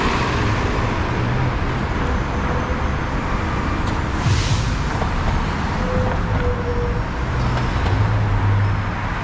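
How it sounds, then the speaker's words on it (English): A city bus passing in early-afternoon Louisville traffic, a dense continuous roar of engines and tires with a brief hiss midway, loud and close with steady roadway noise around it. "There goes a city bus right there."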